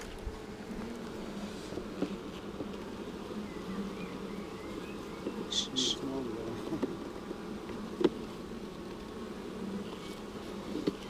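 A calm honeybee colony in a spring hive hums with a low, steady drone during an inspection, individual bees buzzing close by now and then, while a person speaks quietly at times.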